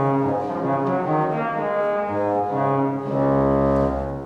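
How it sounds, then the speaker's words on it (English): An 8-foot tromba reed stop on a pipe organ in a 100-year-old church plays a sustained brassy chord progression, loud and full, with notes shifting every second or so and a deeper bass note entering near the end. "So in the reed section we've got an 8-foot tromba"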